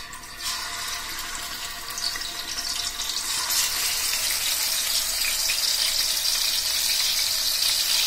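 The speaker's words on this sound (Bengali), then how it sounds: "এবার চুলায় তেল গরম হয়ে উঠলে এবার চুলায় একটা একটা মাছ আস্তে আস্তে বসিয়ে দিব।" Fish, including hilsa, are laid one by one into hot frying oil on a stove, and a bright hissing sizzle builds and then holds steady and loud.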